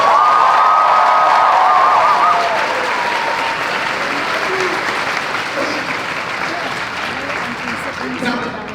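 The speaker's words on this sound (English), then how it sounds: "I want a round of applause for our Markville community" An audience at the 2019 Markville Secondary School graduation ceremony bursts into loud, sustained applause with scattered cheers and whoops, the clapping gradually easing in intensity over several seconds in a large hall.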